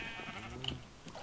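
A single Minecraft sheep lets out a short bleat, faint and brief amid quiet game background noise, with no voices.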